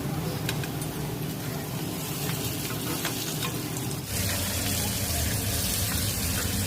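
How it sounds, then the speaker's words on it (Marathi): Surmai fish fillets frying in oil on a low flame, a dense steady crackling sizzle close by that never stops, with a brief dip partway through and a few light clinks. "आता मच्छीला छानपैकी मंद गॅसवर पलटी करून फ्राय करून घ्यायची आहे"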